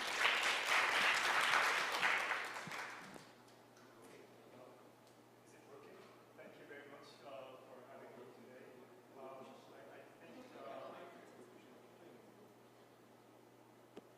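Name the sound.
applause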